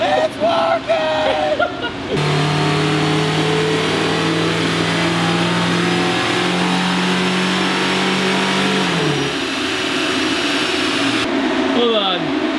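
A stock Nissan 240SX or Lexus SC300 engine revs up and holds a loud, steady drone before winding back down, with voices talking at the start and end.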